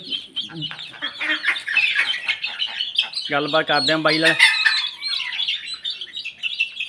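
Bantam chickens at a bird seller's stall cluck and chirp almost continuously, with one louder burst of clucking in the middle. Someone speaks nearby over the birds.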